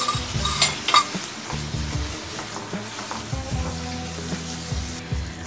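Spice paste and whisked sweetened yogurt sautéing in a pan for Bengali bhetki fish kalia, a steady close sizzle with repeated scraping stirs and occasional spoon knocks against the pan.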